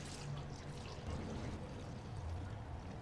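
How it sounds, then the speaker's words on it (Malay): A small amount of water is poured during home cooking, a faint, steady trickle lasting a few seconds with no talking. "Lepas tu kita tuang air sikit."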